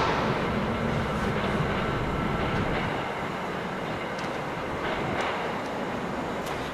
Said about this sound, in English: That's the Needham Heights line train.